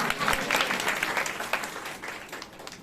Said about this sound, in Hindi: मैंने कहा ताली बजाकर धन्यवाद दीजिए परमेश्वर को